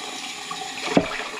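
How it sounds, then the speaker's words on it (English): Warm tap water runs into a container used for soaking fly lines with baking soda, a steady close rush with a brief clunk near the end. "let's fill it up with warm water"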